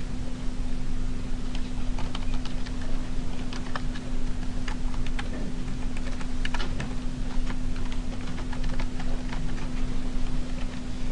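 Someone types on a computer keyboard nearby, with a steady stream of quick key clicks over a constant low background hum.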